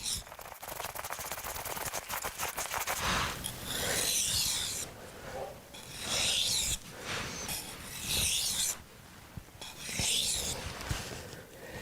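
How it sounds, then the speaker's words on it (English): Knife blade stroked across a 400 grit sharpening stone to raise a burr, giving rhythmic scraping rasps in bursts, close and moderately loud, with brief quiet gaps. "I'm going to take this knife and work it up till I get that burr"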